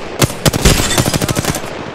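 Rapid automatic gunfire from an Apex Legends firefight, loud and close, with bursts of sharp shots repeating in quick succession across the whole stretch.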